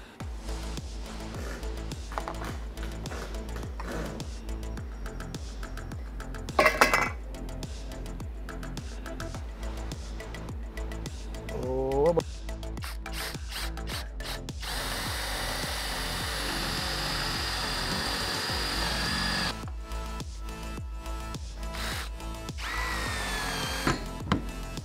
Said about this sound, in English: take out the most of this material using this 25mm spade bit